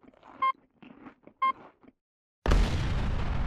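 A modular grenade loaded with water and potassium detonates in the space-station game Space Station 14, giving one sudden loud blast that holds as a dense roar to the end, after a few quiet clicks and two short chimes.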